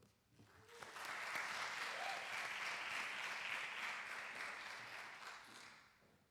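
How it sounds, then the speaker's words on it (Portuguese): Audience at a conference in Cascais breaks into sustained applause, many hands clapping steadily for several seconds before fading out. "peço uma salva de palmas e vamos começar"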